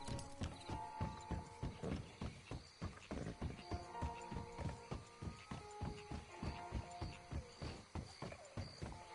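Horse hooves clip-clop at a steady rhythmic gait in the video game Red Dead Online, ridden near Lagras in Lemoyne, the regular thuds close and continuous over a low ambient hum, with no talking.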